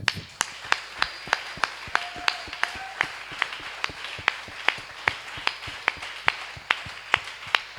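A church congregation claps in steady unison, crisp evenly spaced beats about three per second, continuing without a break over a faint room hum.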